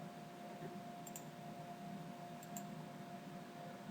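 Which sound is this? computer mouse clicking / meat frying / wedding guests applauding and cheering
computer mouse clicking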